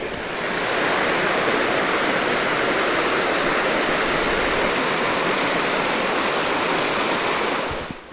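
High water rushes hard through Trout Creek along the Superior Hiking Trail, a loud, close, unbroken roar of churning flow with no voices.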